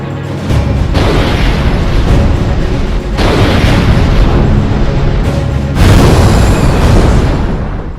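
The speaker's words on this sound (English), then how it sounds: "Stonehenge responded with a volley of anti-asteroid rounds" Heavy booming volleys from Stonehenge railguns firing anti-asteroid rounds in Ace Combat, three loud sustained bursts of rumbling blasts rolling one after another with dense low-end roar throughout.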